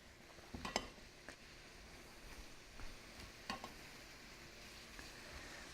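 Leeks sautéing in a pot while being stirred: a faint, steady sizzle broken by a few soft scrapes and clinks of the utensil against the pot.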